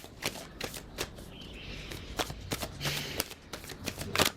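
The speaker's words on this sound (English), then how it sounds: "as I shuffle and pull out 2 more cards" Tarot cards are shuffled by hand in quick, close riffles and soft flicks, a rhythmic papery patter with sharper snaps throughout.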